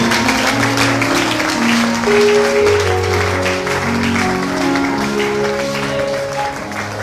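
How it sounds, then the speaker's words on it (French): A church congregation applauds to acclaim God, with sustained clapping from many people that fills the room steadily from start to finish, mixed with sung or voiced tones underneath. "Acclame Dieu, acclame bien."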